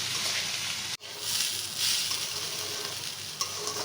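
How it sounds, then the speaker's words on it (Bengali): Rice and mung dal frying with spices for khichuri, a steady hissing sizzle with a brief dip as the mixture is stirred, then continuing with a small clink near the end. "চাল ডালের সাথে সেই মশলাগুলোকে ভালোভাবে মিলিয়ে নিব"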